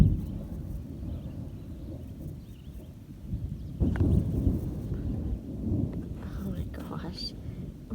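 Thunder from a distant thunderstorm, a low, soft rumble rolling on for several seconds and swelling midway, heard outdoors under quiet whispered talk.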